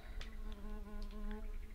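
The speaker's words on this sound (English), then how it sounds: "Oh, there's a fly buzzing in my ear." A fly buzzing in the video game The Cursed Forest: a continuous, close, steady drone with a slight wavering pitch, heard alone without speech.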